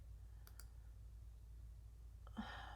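Two quick mouse clicks sound faintly against a low steady hum while working in Cricut Design Space, followed by a brief louder click and rustle near the end.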